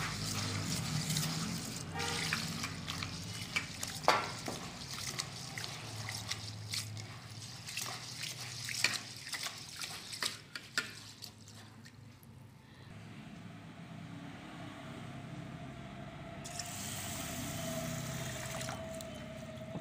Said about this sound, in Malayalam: ഇനി നമുക്ക് നല്ലോണം കഴുകി ഒരു 3-4 മണിക്കൂർ കുതിരാൻ വയ്ക്കാം